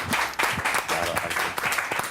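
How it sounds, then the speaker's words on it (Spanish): A studio audience on a magic show applauds a helper holding a key, a lively dense clapping with rhythmic surges and a few individual claps standing out, fairly close and steady. "Podemos aplaudirle a él también"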